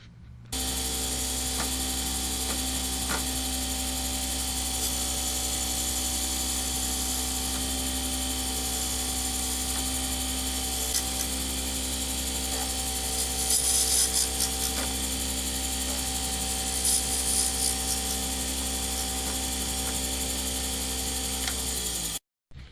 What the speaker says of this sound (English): You just keep pushing in and taking out the drill bit and cleaning it.